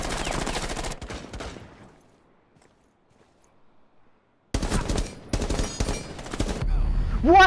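Rapid automatic gunfire from the video game Rainbow Six Siege comes in loud bursts, then drops to near silence before dense firing resumes and ends in a rising ringing effect.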